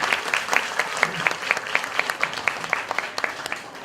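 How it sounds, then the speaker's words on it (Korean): An audience at a Korean youth debate final claps for the student debaters in a brief round of applause, a modest number of individual claps rattling fairly evenly and distinctly. "박수 한번 쳐주죠, 이 학생들."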